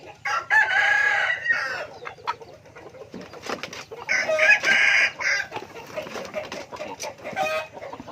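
Hens cluck and a rooster crows nearby, with two loud crowing calls and scattered clucks and squawks in between, all fairly close.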